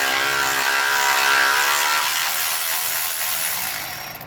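A Milwaukee 12V power ratchet whirs loudly and steadily as it works a stubborn bolt on a 58-year-old water pump, the motor's dense mechanical buzz running close and continuous before tapering off at the end.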